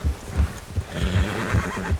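A skittish horse in Red Dead Redemption 2 whinnies loudly several times in quick succession, with hoof clops underneath, close and alone without any talking.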